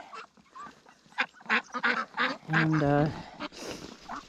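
Ducks quacking on a small farm in winter, a few loud nasal quacks and honks close by, mixed with someone talking.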